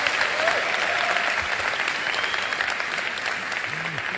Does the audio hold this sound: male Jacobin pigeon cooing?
no